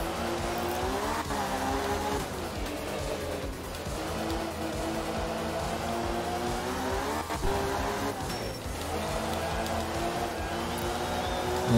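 A rally car in the video game Art of Rally accelerates with a steady, rising engine drone, its gear changes audible as pitch steps, with intermittent tire squeal and skidding on loose ground, close and continuous.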